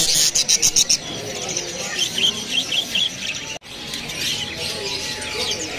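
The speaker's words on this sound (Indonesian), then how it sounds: "Di kios ini ada juga burung parkit ya." Budgerigars (parkit) in a bird-seller's kiosk give bright, close chirps and squawks in quick bursts, with a steady chatter of other caged birds behind them.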